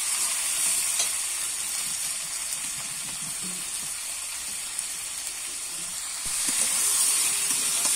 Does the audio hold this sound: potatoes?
yes